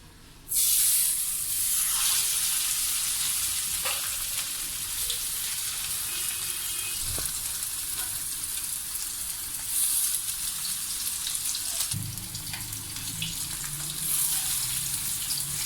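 Peshawari chapli kababs frying in hot oil, a loud continuous sizzle and spatter close by that carries on for the whole stretch, swelling when a kabab is lowered in near the end.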